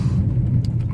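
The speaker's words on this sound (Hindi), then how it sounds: "देखो इसका इंजन इतना लाउड है भाई" A loud vehicle engine idles close by in a steady, deep rumble with no break across one short second.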